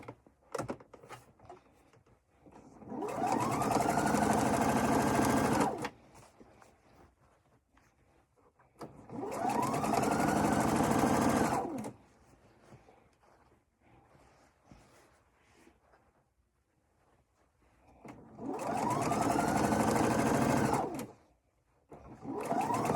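A sewing machine stitches quilt-as-you-go strips on a composition book cover, running in three steady whirring bursts of a few seconds each, its motor pitch rising and settling, with quiet handling between runs.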